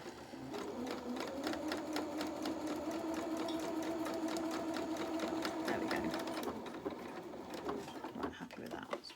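A sewing machine steadily stitching a reversible winter cape with pom-pom trim, a fast even whirring clatter running for several seconds before slowing to a stop, with soft talk faintly underneath.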